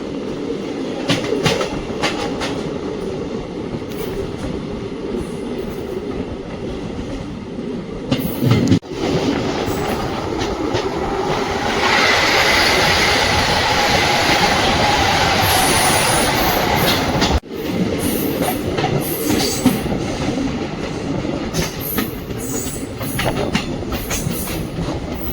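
A DEMU passenger train runs on the Chitradurga to Hubli line, its wheels clattering steadily on the rails with rumbling carriages and occasional squeals, heard loud and close from aboard for a long stretch without talk.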